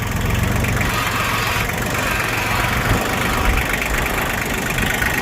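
A motorcycle engine idles with a steady, uneven putter and knock, close and loud, running continuously without any talking.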